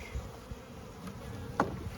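Honey bees buzz around an opened hive during an inspection, a steady close hum with individual bees zipping past the microphone and no speech.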